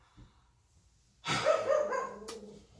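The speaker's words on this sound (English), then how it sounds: "Excuse the background noise, just my dog being a moron." A single dog bark rings out nearby after a quiet moment, followed by a short trailing whine.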